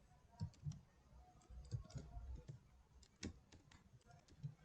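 Keys clatter on a computer keyboard in short irregular bursts of quiet, close taps, with brief pauses between words.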